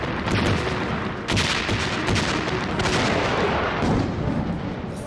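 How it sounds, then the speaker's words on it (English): Dense, continuous battlefield barrage of heavy explosions and artillery-like blasts as tanks are destroyed in a World War II fight near Oti, loud and sustained with repeated booming impacts throughout. "More tanks are torn to pieces with loud explosions."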